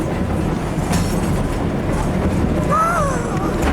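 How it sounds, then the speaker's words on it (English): A passenger train rolls along rails through New Mexico, producing a steady loud rumble with faint rhythmic clatter and a brief high wheel squeal near the end, heard from inside the car. "We're on a train, people."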